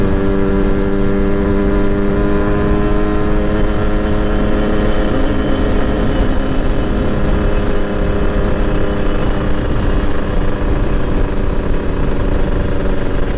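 Yamaha RX King two-stroke motorcycle riding fast on a road in Banda Aceh, its engine a steady, loud, continuous drone with strong harmonic tones and slowly shifting pitch, close to the rider, with no talking.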